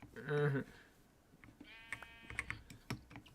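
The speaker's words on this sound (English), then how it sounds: "Need another white sheep." Sheep bleat in a video game, one loud bleat at the start followed by a thinner second bleat, with rapid keyboard typing clattering throughout the short stretch.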